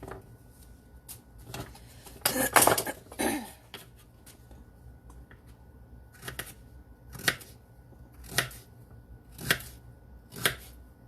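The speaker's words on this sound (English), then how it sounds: "I'm kind of cutting them a little bigger than, this looks like a double size of what you would do for a sliced carrot" Carrots being cut into large chunks with a knife for roasting, giving a series of sharp chops on a board, spaced irregularly at a moderate, close level.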